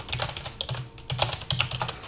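Quick, uneven keyboard typing in short bursts of clicks and clacks, close by, with brief pauses and no voices.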